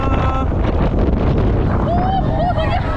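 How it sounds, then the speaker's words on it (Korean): Strong wind gusts at a triathlon venue on Tangeum Lake in Chungju, roaring and buffeting the microphone with a heavy, continuous rumble while people talk. "갑자기 바람이 무슨 일이냐 바람 무슨 일이야 걷는 것도 힘들어"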